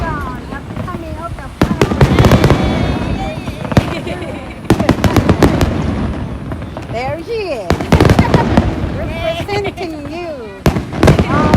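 Fireworks at the Kameoka fireworks festival in Japan's 2022 finale countdown: rapid, loud bursts and crackling volleys in several clusters, with a crowd member talking and cheering over them.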